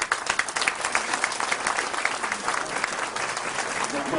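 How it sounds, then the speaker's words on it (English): An audience at a political presentation applauds, a loud, full stretch of many hands clapping with a crowd murmur underneath that holds steady to the end. "I want a round of applause"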